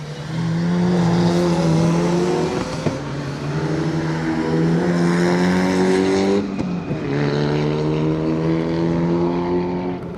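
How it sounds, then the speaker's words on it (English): Mitsubishi Evo and Mitsubishi Colt rally cars race past at a circuit rally stage, with loud, continuous engine roar, rising and falling revs as each car passes close by, and a brief dip between the two. "Sam Gendy having a good push in the Evo, and the Mitsubishi Colt following through"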